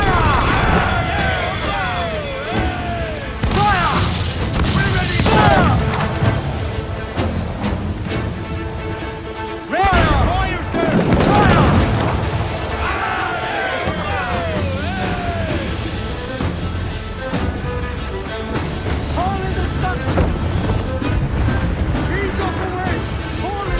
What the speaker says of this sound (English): Those cannons have a long reach.